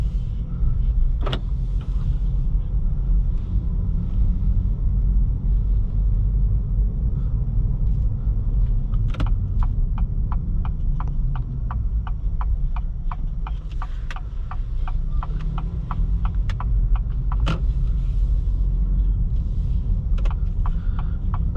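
A 2023 Acura Integra A-Spec drives on the road: a steady low engine and tyre rumble fills the cabin throughout, with a sharp click at the start and a run of evenly spaced turn-signal ticks through the middle.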